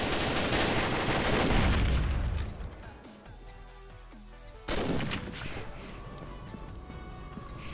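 Gunfire in the online shooter Combat Arms, a loud burst of rapid shots fading into ringing echoes, then quieter and another sharp blast followed by a dense rattle of fire.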